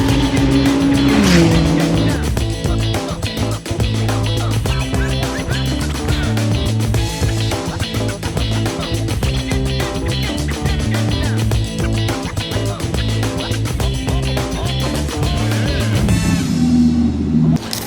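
A Lamborghini Huracán Super Trofeo race car howls past on the Paul Ricard circuit at Le Castellet, its engine loud and close with rapid gear changes and a rising, then fading, pitch over several seconds.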